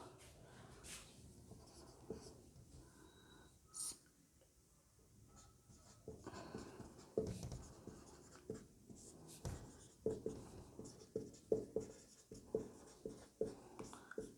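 A teacher hand-writes notes during a Hindi sociology lesson on population growth transition theory: quiet scratchy pen strokes, sparse at first and then a steady run of short, rhythmic marks, faint and close.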